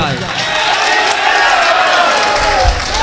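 Large crowd at a Hindu religious gathering applauding and cheering loudly, a dense continuous roar of claps and shouts filling the whole moment at close range.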